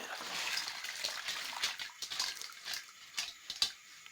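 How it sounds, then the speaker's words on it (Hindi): Water is poured onto washed chana dal in a pot, making a soft, uneven splashing and trickling with a few sharper clinks, fairly faint and close. "देखें पानी ये डालेंगे इसमें"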